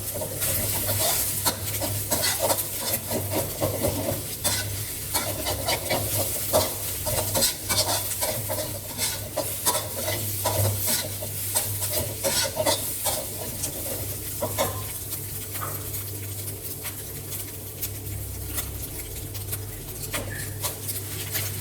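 Egg and chopped onion fry in a pan for Thai chicken fried rice while a utensil scrapes the bottom, producing a loud continuous sizzle with frequent close scraping and clattering strokes throughout.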